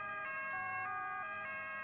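An ambulance siren in the emergency-services game Emergency 4 (Amsterdam Amstelland modification) wails in a steady two-tone pattern, alternating pitch every half second or so, moderately loud and without talk.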